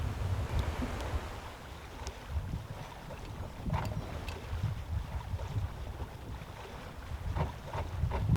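A sailboat moving slowly at about 2.5 knots in an Alaskan bay, with steady wind noise and soft water rushing against the hull throughout, plus occasional faint knocks.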